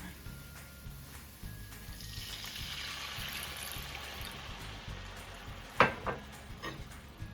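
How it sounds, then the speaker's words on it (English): Water pours into a hot medium skillet while stewing brown chicken, raising a soft hiss and sizzle for several seconds before one brief clatter; quiet and close, with no talk. "I'm going to turn up back my heat, and I'm going to be adding some water."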